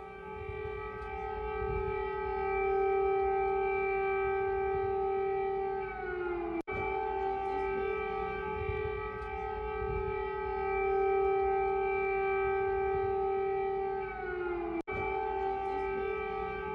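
Air raid sirens wail across Kyiv in wartime, a loud sustained rising-and-falling civil defense tone with rich harmonics that carries steadily through the whole stretch, with two abrupt breaks.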